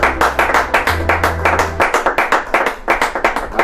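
A church congregation claps in a fast, steady rhythm, many hands striking together loudly and close at a lively worship service, with no voices.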